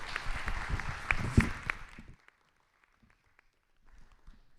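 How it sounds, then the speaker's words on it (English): Audience at a science symposium applauding the speakers, a lively burst of clapping for about two seconds that then drops away to near silence with faint room sounds. "we would like to give big hand clap to them"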